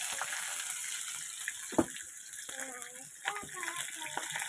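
Slit green chilies sizzle in hot oil over a tempering of cumin, dried red chilies and bay leaves for a bottle-gourd lau ghonto, a quiet, steady hiss with light clinks of utensils.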